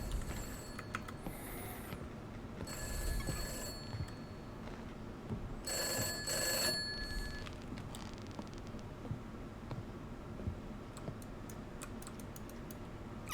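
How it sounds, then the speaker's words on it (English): A telephone rings in the video game Summer of '58, several short electronic ring bursts, fairly faint against a quiet, hissy background with scattered clicks. "Hang on, the phone's ringing."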